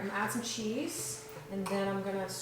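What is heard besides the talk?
No distinct noise like a dog, phone or traffic.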